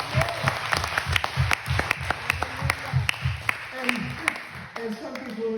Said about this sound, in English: can you give clap offering to the Lord?